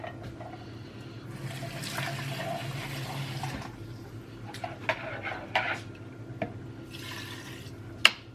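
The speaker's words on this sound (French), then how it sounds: "je vais remettre un peu d'eau" Water is poured into a cooking pot during preparation of a shrimp dish: a steady rushing splash for about three seconds, then quieter trickling with a few sharp drips and clinks close by, with no voices.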